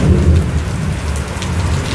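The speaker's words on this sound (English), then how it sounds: "It's coming down so heavy and the wind is so strong." Heavy rain pours down with strong wind in a severe thunderstorm in Westbury, a dense loud roar of rain and gusts that continues throughout with no voices.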